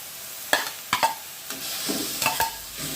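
Mixed vegetables and instant noodles stir-fried in a pan, a few sharp scraping and clattering stirs over a soft sizzle, with quieter shuffling between strokes and no voices.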